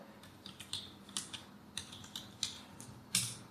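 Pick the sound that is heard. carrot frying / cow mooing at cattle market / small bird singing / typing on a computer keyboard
typing on a computer keyboard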